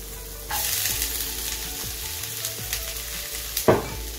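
Cabbage stirred and fried in a pan, with a steady sizzle starting after a brief pause, repeated scraping of the utensil against the pan and one louder clatter near the end, close and alone.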